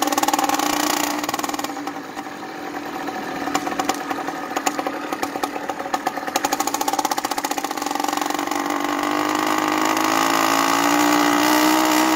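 A small engine with a 49mm iron-sleeved cylinder, converted to run on pure ethanol, runs cold before warming up, giving a loud, steady buzzing drone that turns rougher and uneven midway before settling again.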